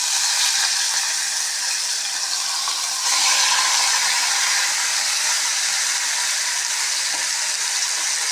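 Marinated chicken, mixed with curry masala, drops into hot sesame oil and sets off a steady, loud, broadband sizzle and hiss that holds for several seconds and swells briefly partway through, with no talking.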